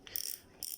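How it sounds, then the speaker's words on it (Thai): Two quick bursts of rapid metallic clicking from the spring-and-steel-plate clicker ratchet of a Daiwa Sprinter Z4000A fishing reel, close up, separated by a short pause. "ตัวคลิกเสียงเป็นระบบดีดนะครับ เป็นระบบสปริงดีดแผ่นเหล็กนะครับ"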